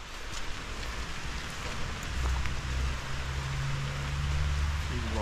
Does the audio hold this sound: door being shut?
no